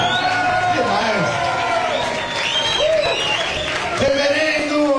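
A live concert crowd applauds loudly and continuously as band members are introduced, a thick clapping wash close up with a voice talking over it.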